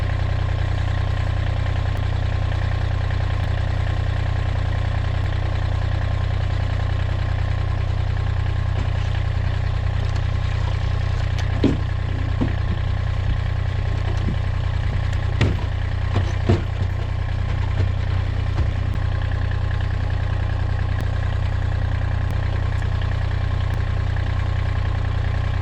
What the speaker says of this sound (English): So I've got the tractor warming up there a bit.